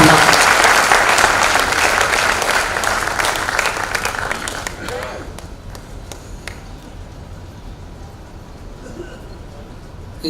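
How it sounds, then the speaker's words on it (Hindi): Loud, dense audience applause at a Hindi-Urdu poetry recital (kavi sammelan) in Faridabad fills the first half, then thins to scattered claps and tapering crowd noise, with some voices underneath. "एक बार नाद उठे तालियों का भरपूर जोरदार तालियां बजाकर सुना"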